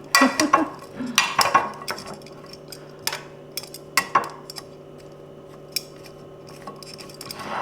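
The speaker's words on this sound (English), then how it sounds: "Just want to mix it up really well, make sure it's covered." Parsnip fries being tossed and mixed in a bowl, with clinking utensil scrapes against the bowl in quick bursts early on, then sparser taps and knocks, fairly close.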